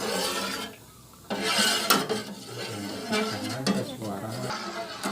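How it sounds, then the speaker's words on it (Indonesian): A hunkue flour mixture is stirred in a pot over a high flame. Scraping and stirring sounds run steady and close, mixed with soft bubbling, while someone talks over them. "Aduk-aduk sampai kadar kekentalannya udah mendidih dan kental."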